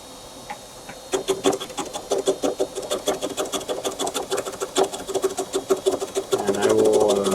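A tool cuts shavings off an apple wood candle holder, making a rapid, rhythmic scraping chatter that starts after a second and holds steady and close, then rises into a sustained whir at the end.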